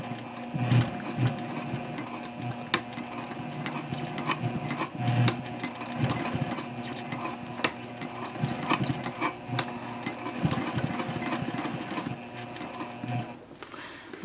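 A sewing machine stitches a pocket onto a Swoon Frankie handbag tote at a 3.0 stitch length, running in a steady rapid mechanical clatter with rhythmic ticking of the needle and feed, close up and moderately quiet, with no one talking.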